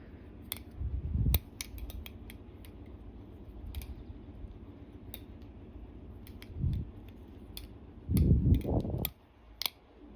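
B+ V4 Tsunami balisong trainer flipped through a Chaplin trick, giving sparse metallic ticks and clacks with a few louder rattling bursts near the start and end against a quiet background.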